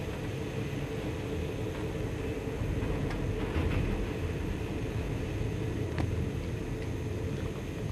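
Steady loud rumble and rattle inside a moving passenger train running from Bratislava to Košice, broadband noise filling the whole stretch with faint clicks of the wheels, no voices.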